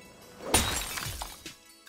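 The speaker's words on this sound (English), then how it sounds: "he vents by smashing up old junk" Old junk is smashed in a dark scrapyard full of rust, china and glass, with one loud shattering crash followed by glass and debris clattering and tinkling down for about a second.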